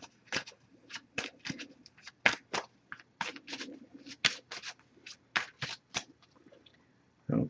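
An oracle card deck being shuffled by hand in a quiet room, a series of short crisp riffling bursts in an uneven rhythm, close and fairly soft.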